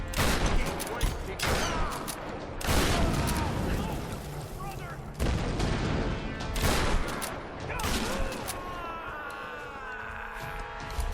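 Booming shotgun blasts in the Tomb Raider video game, heavy repeated bursts over continuous loud game noise, with someone talking over the action.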